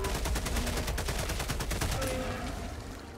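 Rapid bursts of shotgun gunfire from the video game Helldivers 2, a dense run of loud blasts one after another, with a voice speaking briefly underneath.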